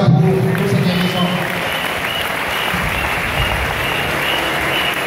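A church congregation applauds together in a Côte d'Ivoire service, with steady dense clapping that fills the space. Voices sound under the clapping at the start.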